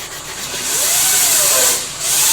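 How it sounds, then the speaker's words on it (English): An 80-grit sanding block rubs firmly across a dented metal valve cover in long, rasping strokes, close and loud, with a brief pause before the next stroke. "now we can check that right now with our sanding block"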